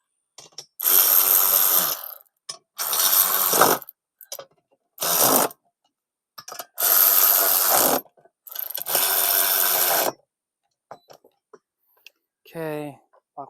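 A 14 mm bolt with a lock washer is tightened on a Bauer cement mixer, with several loud, close bursts of rapid mechanical clicking separated by pauses and a short voice near the end.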